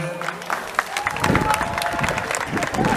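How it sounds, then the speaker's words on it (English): Crowd of pupils and spectators clapping at a school sports day results announcement, a steady, fairly close wash of applause lasting a few seconds with some voices mixed in. "Clap them."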